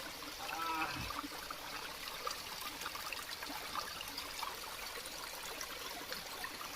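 Pure spring water trickles up from the ground on a hillside trek, with a continuous close babble and light splashing that stays steady throughout.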